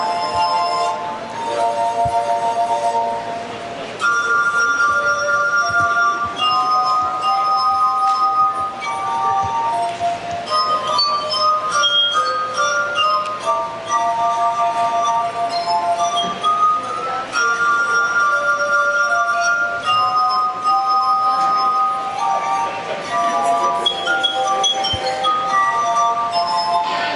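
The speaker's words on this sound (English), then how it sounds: "These guys have glasses of water with different amounts of water." Water-filled drinking glasses tuned by differing water levels are played like a glass harp, giving sustained, ringing pure tones that form a steady melody of overlapping notes, clear and continuous throughout.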